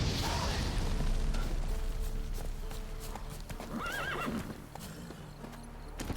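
Hooves of the horse Roach clip-clop steadily in The Witcher 3, with a whinny rising midway through the clip over a busy game soundscape.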